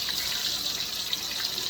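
Green banana slices fry in hot oil in a pot, giving a steady dense hiss and sizzle that stays even throughout the short stretch with no voices.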